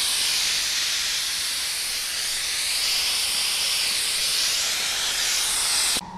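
Steam hisses loudly and continuously from a boiler through a bullhead tee valve, a steady broad rushing spray that cuts off abruptly at the end.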